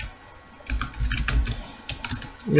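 Computer keyboard clacking as C code is typed, a close run of quick irregular keystrokes in short bursts with brief pauses, fairly quiet.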